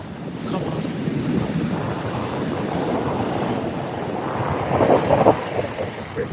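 Ocean surf rolls onto the sand at Montara State Beach in California, a continuous roar of waves close by with heavy wind buffeting the microphone and a surge building near the end.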